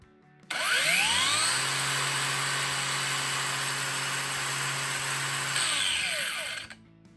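Parkside Performance 20V cordless angle grinder spinning up from rest with a rising whine, holding a loud steady high-pitched drone for about five seconds, then winding down quickly as it brakes to a stop.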